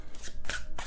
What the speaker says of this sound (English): I need to shuffle this deck a little bit more